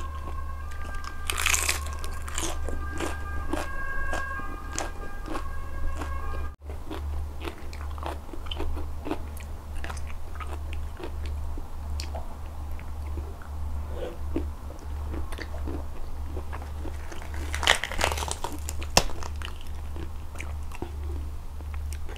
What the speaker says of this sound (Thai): สลัดเนี่ยทั้งกรอบทั้งหวาน